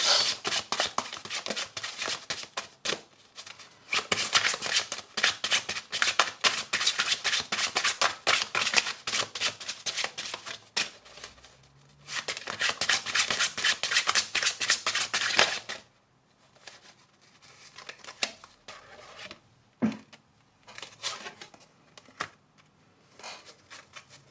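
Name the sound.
shuffling a tarot card deck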